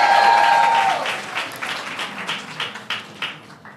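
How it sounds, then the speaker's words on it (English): A crowd at a women's suffrage event claps loudly, then the applause thins into scattered, fading claps over a few seconds. "Let's give them a huge round of applause."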